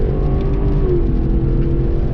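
A 2021 Lexus LC500 with a 5.0L V8 engine revving on downshifts, a loud, steady deep engine roar with a slight pitch shift as revs change, alone without talk.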